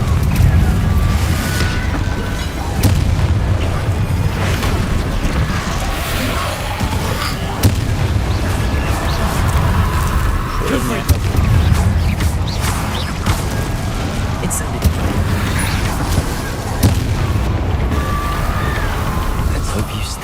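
A Confringo fire spell bursting in Hogwarts Legacy, dense booming blasts and rumbling impacts running continuously and loud amid game combat noise, with no speech.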